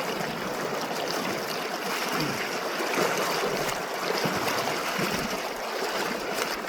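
Steady rushing river current flows continuously, a broad wash with faint trickling and splashing, fairly close and without talk.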